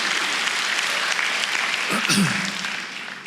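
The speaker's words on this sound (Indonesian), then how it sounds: "Berikan tepuk tangan untuk Tuhan kita" A church congregation applauding during a sermon, a steady wash of many hands clapping at moderate volume, with a brief voice and a thump in the middle before it eases off.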